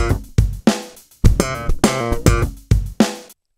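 Slap bass line on bass guitar, played faster, with muted slaps, pulls and left-hand slaps. Quick percussive snaps and pitched notes crowd together in a short, close, solo run.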